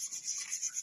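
Sandpaper rubs across a toilet bowl during a cleanup, giving a faint, steady hissing scrape with a gently pulsing rhythm and no voices.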